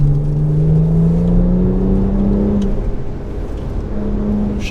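A BMW 1M sports car's engine drones steadily under load, a loud, close, continuous hum with a slight rise in pitch and a brief dip partway through.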